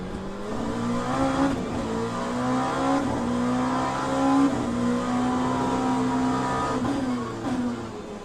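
Race car in the Le Mans Ultimate video game, a Fiat Oscar: a loud, steady engine drone that shifts in pitch as it slows and runs off the track, with faint tyre noise and no talk.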